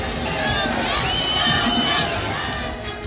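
A dense crowd cheers and shouts continuously at Kangana Ranaut's road show in Himachal, a loud, steady roar of many voices with children's shouts mixed in and no clear individual speech.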